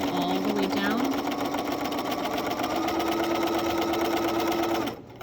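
A sewing machine stitches a patch pocket, its motor whirring steadily and loud for nearly five seconds before stopping abruptly.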